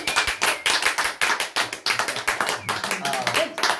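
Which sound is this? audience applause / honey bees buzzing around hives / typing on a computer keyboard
audience applause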